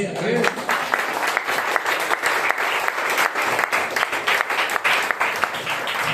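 Sustained applause from a church congregation at a Spanish-language sermon fills the room, a steady dense wash of clapping with some voices mixed in.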